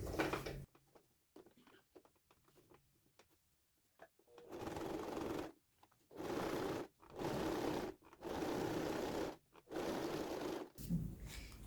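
Domestic sewing machine stitching a finishing seam on a men's toiletry bag, running in four or five steady bursts of a few seconds each with short pauses between, after a quiet stretch of faint handling noise.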